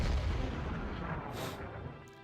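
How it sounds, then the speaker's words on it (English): Artillery fire in the strategy wargame Hex of Steel, a North Africa battle: a deep, rumbling boom that fills the opening and slowly rolls away, with a faint crackle afterward. "The amount of artillery the British have is really killing me right now."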